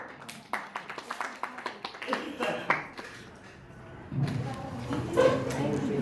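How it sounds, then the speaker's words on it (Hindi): Scattered, uneven clapping from the audience at a women's honour ceremony for newborn girls, sharp individual claps at first, then a fuller burst of applause mixed with voices and crowd noise. "मन के सम्मान में जोरदार तालियां हो जाए"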